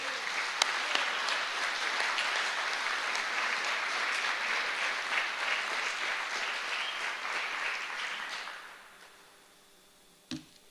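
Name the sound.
audience applause welcoming a speaker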